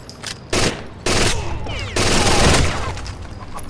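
Gunfire in the shooter Rainbow Six Vegas 2 comes in three long, loud bursts of rapid automatic fire separated by brief gaps, close and dominant throughout.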